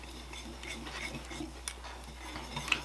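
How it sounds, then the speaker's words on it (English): A whisk clicks and scrapes in a bowl, mixing baking soda, baking powder and salt, with quick light taps and a few sharper metallic ticks. "we're just going to whisk this together"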